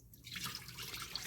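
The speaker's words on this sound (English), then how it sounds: "I'm going to sieve now, and I'm going to sieve into this." Dry glaze mix poured into an 80 mesh sieve resting over a bowl in a sink, making a steady, soft granular hiss that runs continuously throughout, close by and with no talking.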